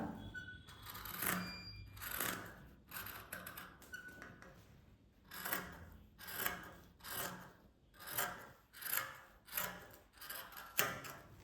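Scissors snip through fabric pieces being cut for a nightie, a steady run of crisp, close rasping cuts repeating roughly every second, with no talking.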